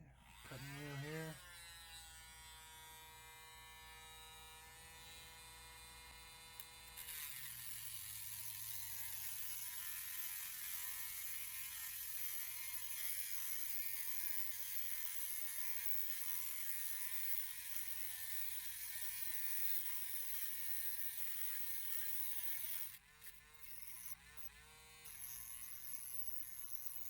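A rotary cutting wheel slices off a small threaded piece during a model starship repair, a steady high-pitched whine with grinding and whir that rises sharply after a few seconds and runs continuously, briefly cutting out near the end.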